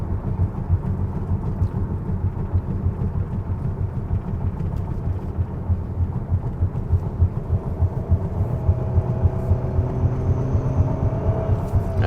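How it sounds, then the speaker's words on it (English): Kia Sorento 2.5 petrol AWD tyres drumming over road rumble strips, a continuous low, rapid pulsing rumble under steady engine and road noise lasting throughout. "So we are going through the rumble strips."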